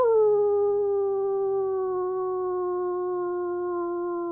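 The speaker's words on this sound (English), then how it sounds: "you can hear even more howls off in the distance, far away from other wolves across the land" A single sustained howl, like a wolf's, holds a steady pitch and slowly fades over about four seconds, clear and alone with no talk.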